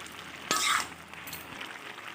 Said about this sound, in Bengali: ঢাকা তুলে একটু ভালোভাবে আবার নেড়ে চেড়ে